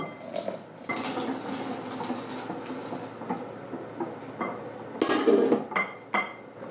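Hot, just-boiled milk being stirred in small portions into an egg mixture in a bowl for custard: steady scraping and light clinks of a utensil against the dish, with louder clattering toward the end and no voices.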